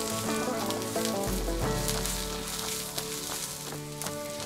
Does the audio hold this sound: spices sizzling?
yes